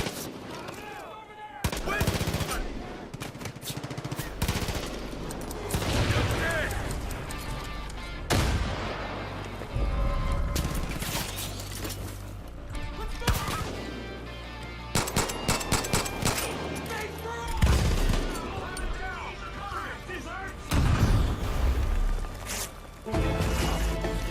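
Bursts of automatic gunfire and heavy shooting from the video game Far Cry 5 pound loudly and almost constantly, with explosive impacts and in-game chatter mixed in.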